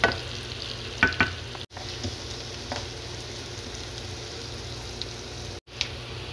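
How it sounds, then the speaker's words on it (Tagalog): A whole onion sautéing in a pan as the base for a mung bean stew, a continuous close sizzle with a few quick utensil scrapes and clatters of stirring, no voices. "Siyempre, inuna ko muna ang sibuyas."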